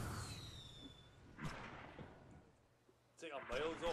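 Ship guns firing in the airship combat game Guns of Icarus, a few faint thumping shots with whooshing bursts, quiet and spread out, with people talking over them.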